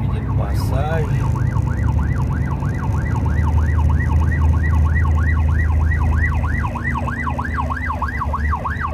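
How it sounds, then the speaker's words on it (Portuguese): An ambulance siren wails in a steady repeating yelp over the dense rumble of heavy afternoon traffic near Campinas, São Paulo, loud and close throughout the clip. "Não é fácil trabalhar com essa ambulância aqui num trânsito desse."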